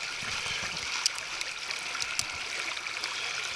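Stream water splashes and trickles steadily as a caught bass is rinsed off, with small sharp splashes over the constant close rush of the current.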